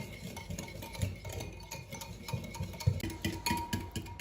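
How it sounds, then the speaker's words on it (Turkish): Cake batter with yogurt is being whisked in a bowl, giving a quiet rapid ticking and scraping rhythm that runs continuously at close range, with no voices. "Şimdi hemen bu üç malzemeyi birbiriyle karışana kadar, homojen bir kıvama gelene kadar çırpıyorum."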